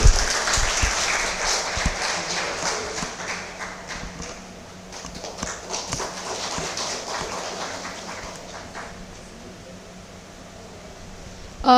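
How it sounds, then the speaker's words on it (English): An audience at a certificate presentation ceremony gives sustained applause for about twelve seconds, dense clapping that dips slightly midway before swelling again at the end. "A big round of applause for Sai"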